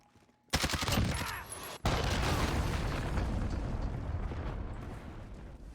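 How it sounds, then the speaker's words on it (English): Cruise missile detonation in Call of Duty multiplayer: a sudden loud blast after a brief near-silence, a short cut, then a second heavy rumbling explosion that rolls on with crackling debris and scattered gunfire for several seconds. "Enemy cruise missile."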